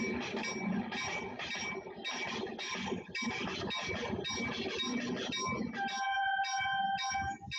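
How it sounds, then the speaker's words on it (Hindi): A busy metallic clatter with repeated rhythmic bursts, like a train chugging, joined near the end by sustained whistle-like tones. "जब रेलगाड़ी चलती है तो उसमें से एक ये सीटी की आवाज आती है"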